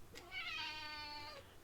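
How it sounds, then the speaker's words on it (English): A cat gives a single drawn-out meow, close and fairly soft, in a quiet indoor room with no talk. "It was the cat."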